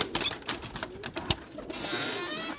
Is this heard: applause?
no